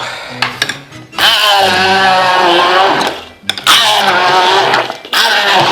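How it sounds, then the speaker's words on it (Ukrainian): A kitchen blender purees tomato cores in three loud, close whirring bursts with shifting pitch as the contents break down, separated by brief pauses. "Блендером. Блендером. Подрібнюємо."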